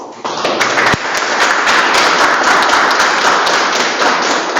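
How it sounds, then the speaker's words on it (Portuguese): A full round of clapping from a group, loud and continuous after a brief quiet start, with a sharp thump near the beginning. "Eu queria só pedir uma salva de palmas."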